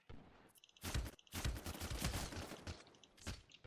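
Gunfire from a sniper class match in Medal of Honor Warfighter, a quick series of loud, sharp shots with echoing tails and brief pauses between bursts, with no talking.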